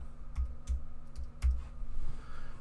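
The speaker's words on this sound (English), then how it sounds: "Let me type in what I say" Keys tap on a computer keyboard set out on a desk, a few soft, evenly spaced clicks over a low steady hum, no voice heard.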